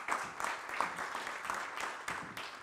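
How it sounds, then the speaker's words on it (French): Applause from the audience at a round-table event as a guest is welcomed, a moderate patter of many hands clapping steadily and fairly close. "Vous pouvez l'applaudir."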